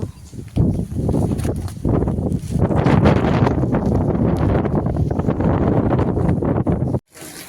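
Strong, steady gusting wind with rain from a storm in a village roars and buffets the microphone almost continuously, with a rushing, noisy texture, cutting off abruptly near the end.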